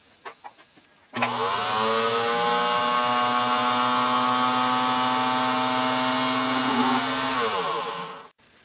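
A small Unimat lathe runs steadily while cutting a brass screw, a continuous whining motor hum with harmonic tones that starts abruptly, holds for several seconds, then winds down and stops.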